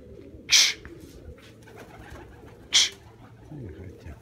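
Pigeons coo softly in a low murmur, broken by two sharp, bright bird calls close by, with no one talking.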